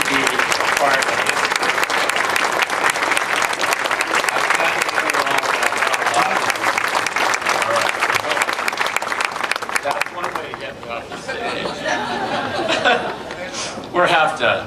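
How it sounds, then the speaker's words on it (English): Sustained applause from a large audience at a Disneyland ceremony on Main Street, dense and loud for about ten seconds before fading into scattered clapping, murmurs and chuckles. "I want to give you applause"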